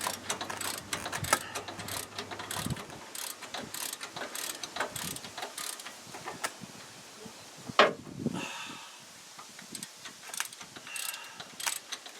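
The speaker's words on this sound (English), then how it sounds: "I'm going to get this one out with the ratchet" Ratchet clicking steadily while removing a bolt from the rear brake of a 2005 Envoy Trailblazer, close and fairly quiet, with short metallic bursts, a sharper clank near the end and no talk.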